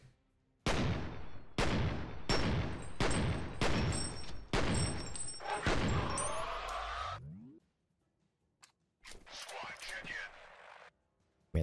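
Gunfire in the shooter game F.E.A.R.: a rapid series of loud, evenly spaced gunshots, then a whooshing sweep, silence and a few scattered sharper hits, with a voice talking over it.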